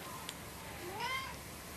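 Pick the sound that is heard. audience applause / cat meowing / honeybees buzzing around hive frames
cat meowing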